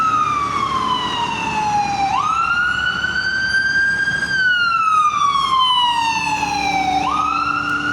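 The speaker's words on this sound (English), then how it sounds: "Hold on, an ambulance truck coming." A loud ambulance siren wails close by on the street, its pitch sweeping slowly up and down in long cycles for the whole stretch, with no talk over it.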